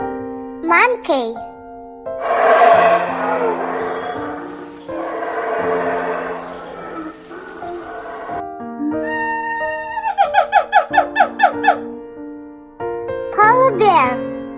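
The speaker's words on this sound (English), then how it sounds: "Monkey." A monkey gives a run of calls, starting with two broad, noisy bursts and ending in a rapid series of sharp, rising chattering cries over background music.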